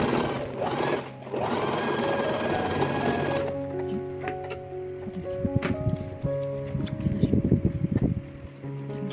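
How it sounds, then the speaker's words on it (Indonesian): A sewing machine runs in steady whirring bursts while stitching the inner lining of a crochet wallet, with a short pause before the motor picks up again, close and clear. "Kita jahit di sisi sebelahnya lagi."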